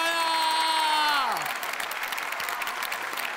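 At the Marathi TV comedy show Chala Hawa Yeu Dya, a falling, sliding musical tone fades out first. Then a studio audience breaks into a full, steady round of applause that carries to the end.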